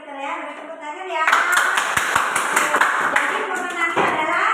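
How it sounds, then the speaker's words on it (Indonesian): Classroom students clap their hands in a lively burst of quick, uneven claps that follows talking and runs under a few voices. "Beri tepuk tangan ya"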